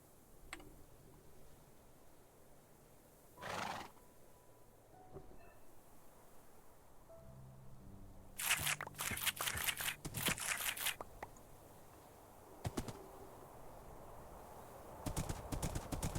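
In a Minecraft-style video game, a horse's hooves clip-clop in uneven bursts of rapid close clatter, with quieter gaps and occasional louder thumps between them.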